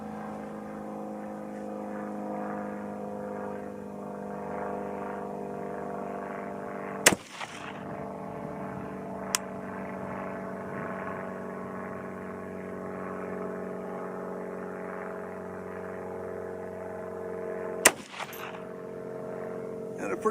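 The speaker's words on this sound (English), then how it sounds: "I'll go reset up, just go through the last 3 shots for you to speed this up." Two sharp, distant-sounding 6mm ARC rifle shots fired with Hornady 80 grain ELD-VT loads, spaced about ten seconds apart over a steady low outdoor hum.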